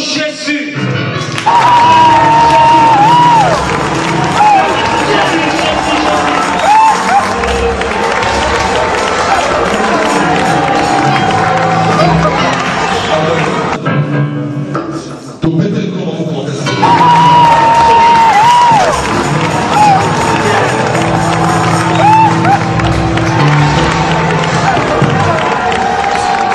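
A church congregation at a New Year's Eve vigil cheers and applauds the approaching evangelist, loud sustained crowd noise with shouting and clapping that dips briefly before swelling again, music and voices underneath.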